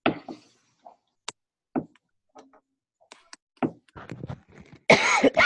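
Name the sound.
cough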